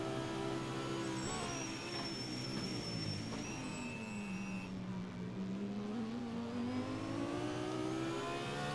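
A McLaren and an Audi GT race car lapping Sebring in the Assetto Corsa racing simulator, with a steady engine drone whose pitch dips and climbs as the car shifts and accelerates, heard alone without talk.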